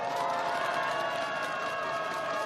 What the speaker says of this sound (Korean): 뜨겁게 환호해 주십시오.